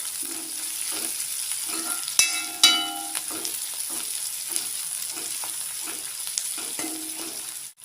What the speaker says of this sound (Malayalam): സവോള നന്നായിട്ട് വഴറ്റി വന്നിട്ടുണ്ട്.